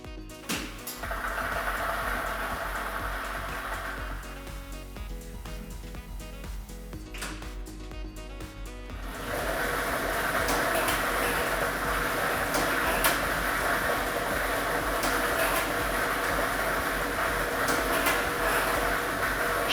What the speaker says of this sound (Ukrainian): Тиражна комісія обрала лототрон А комплект кульок номер 4 І ми вмикаємо лототрон.